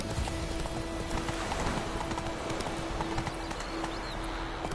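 Roach, a horse in The Witcher 3, trots along with a steady clip-clop of hooves, close and moderately loud over a soft ambient bed, with a brief whinny and no talk.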